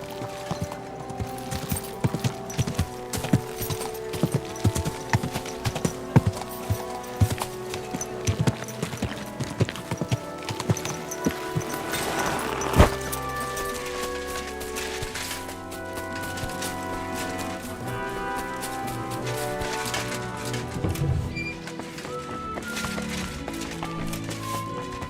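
Horse hooves clip-clop in a steady trotting rhythm inside Kingdom Come: Deliverance II, layered over a busy game soundscape with music-like tones; a short whinny may rise near the middle.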